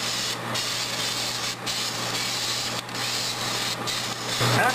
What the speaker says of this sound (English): So the first step in painting my model is to coat the entire model with a coat of primer.